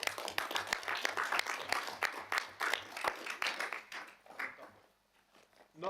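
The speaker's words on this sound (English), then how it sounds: "I'm happy to just lead a round of applause for you." A small group at a planning, environment and parks committee meeting claps for several seconds, the scattered handclaps thinning out and fading to near silence at the end.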